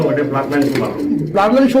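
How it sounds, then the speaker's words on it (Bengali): A pair of white fancy pigeons coo softly at close range, their low, rolling calls partly buried beneath steady male conversation. "আমরা দেখতে পাচ্ছেন হোয়াইট কালারের এক জোড়া কবুতর"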